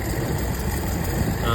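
A Toyota KE20 car engine idles smoothly just after starting, with its carburetor air filter removed; a steady close low rumble fills the short moment.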